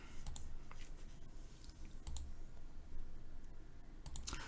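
Clicking keystrokes on a computer keyboard come in short irregular bursts with pauses between, close and fairly quiet against a faint room hiss.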